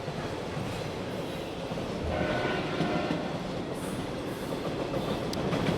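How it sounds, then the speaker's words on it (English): A train passes close by with a loud, steady rumble of rail noise that swells slightly midway and holds throughout, with no talk over it. "Here comes a train."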